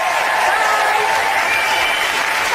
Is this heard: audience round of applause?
yes